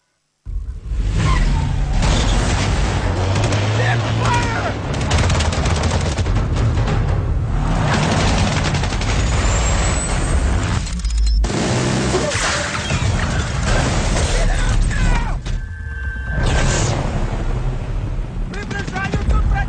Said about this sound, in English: It's the sound of a battlefield.